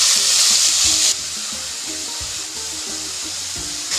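Garlic, onion and chili paste sizzles loudly in hot oil, the hiss dropping to a softer steady fry after a second while a spoon clatters and stirs rhythmically in the pan.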